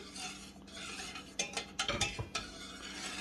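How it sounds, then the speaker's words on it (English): A spoon stirs a spiced kecap manis mixture with bay leaf, ginger, cumin, garlic and cloves in a cooking pot. A run of close scraping clinks and knocks sits over a low, steady background hum. "I'm going to stir until it boils."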